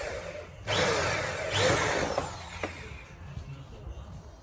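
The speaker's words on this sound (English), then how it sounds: "We're just going to drill holes on the inner arch" A power drill bores holes into the inner wheel arch of a Mini Cooper S R53 in two short bursts of whining, grinding, close and fairly loud, with faint clatter and quiet room noise after.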